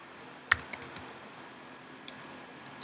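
A handful of computer keyboard keystrokes, one sharp tap followed by scattered lighter clicks, typed close by in a quiet room while a project name is entered.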